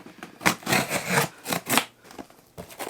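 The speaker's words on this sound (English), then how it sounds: "Y'all know I have to bring out my scissors." Scissors cut open a cardboard Amazon box themed for Rings of Power, making a quick run of short scraping snips and rasps with brief pauses, close and fairly soft.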